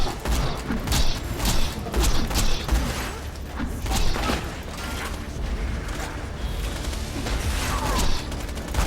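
Gunfire in the video game Borderlands 2, during Tiny Tina's Assault on Dragon Keep, comes as loud, dense, continuous bursts of shots with clanking mechanical sounds and booms, close and steady throughout.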